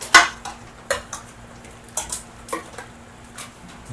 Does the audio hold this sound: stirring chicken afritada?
yes